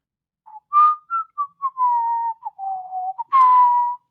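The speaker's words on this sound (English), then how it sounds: "Starts whistling." A person whistles a short, wavering tune of about a dozen clear notes, some held and some clipped. It is close and alone, with a breathier note at the end.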